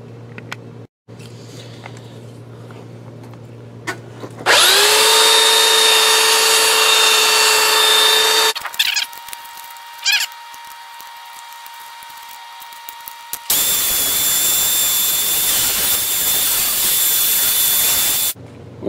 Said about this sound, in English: After a few minutes of sanding